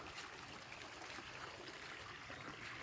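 Irrigation water flowing into a farm field channel, a soft continuous trickling and gurgling stream at low level with no talk.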